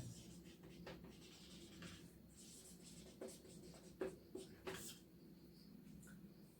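Pen writing out given data for a direct and bending stress problem, a faint continuous scratching with a few sharper taps, quiet and close, with no speech.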